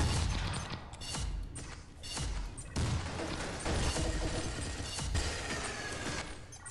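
Sniper rifle shots ring out in the mobile shooter Pixel Gun 3D, several sharp cracks spaced apart over a dense, continuous wash of loud game noise.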